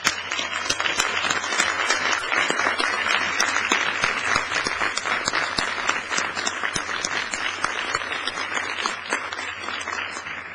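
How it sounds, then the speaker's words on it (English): Sustained applause from a large audience at a 2010 university arts and sciences graduation ceremony, dense steady clapping filling the hall without a break for the full stretch, with no voices rising above it. "Graduates, please join me in giving them a warm round of applause."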